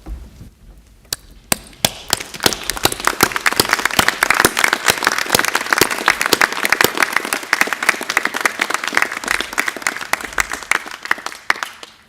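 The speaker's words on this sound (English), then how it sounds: "offer a round of applause for our graduates." Applause for graduates at a polytechnic graduation ceremony in Christchurch, starting with a few scattered claps and building into sustained, loud clapping from a crowd, with sharp individual claps standing out.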